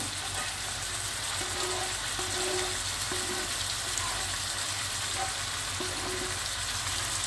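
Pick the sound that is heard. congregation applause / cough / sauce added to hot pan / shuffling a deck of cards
sauce added to hot pan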